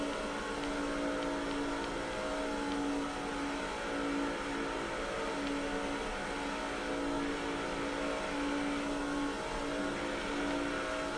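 Stock cars race at Daytona in NASCAR 06, with a steady, dense roar of engines at full throttle droning continuously without a break and no talk over it.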